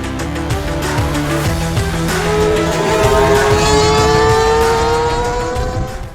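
A loud Suzuki GSX-R1000R sport motorcycle engine revs hard, its pitch climbing steadily through the gears as it accelerates, with no voices.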